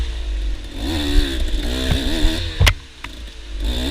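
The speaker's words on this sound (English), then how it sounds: "there's nothing quite like hearing that two-stroke sing" Two-stroke dirt bike engine at a Farm Jam race, revving hard and buzzing through rising and falling pitch, with a couple of sharp clattering knocks near the end.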